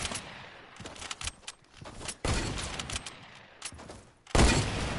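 Rapid bursts of gunfire from the video game Fortnite, several loud volleys and single shots in quick succession with brief gaps, close and dominant, no talk over them.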